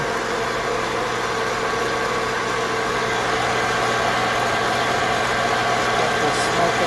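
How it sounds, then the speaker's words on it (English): A kitchen range hood fan runs at a steady, unbroken hum with a droning whir during coffee bean roasting at home, loud and constant throughout with no talk over it. "it's good to have the range hood fan turned on"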